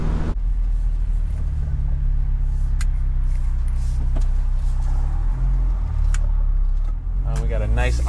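Porsche 944 Turbo engine and exhaust rumbling steadily while driving, a loud low drone from inside the cabin that holds for the whole stretch, with a few faint clicks and a short rise near the end.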